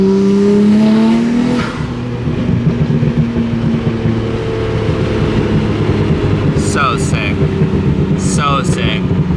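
Car engine revving hard during a brake boost, loud and close, a steady rough roar with rising and falling pitch throughout, plus brief high squeaks near the end.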